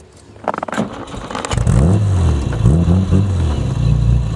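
A 1964 Jaguar E-Type Series 1 roadster, not yet fully warmed up, revs loudly on a test drive. A clattering start-up gives way to a deep, steady engine roar with rising and falling pitch sweeps.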